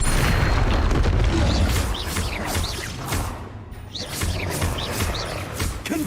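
Confringo blasting spells exploding in Hogwarts Legacy, a rapid run of loud booming blasts and crashes over dense rumbling combat noise, easing briefly in the middle before building again.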